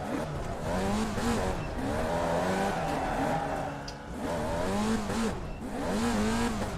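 A Formula Vee race car in the iRacing sim drones at steady engine pitch, the tone wavering and dipping as the car loses grip and slides, with a faint tire squeal and no talking.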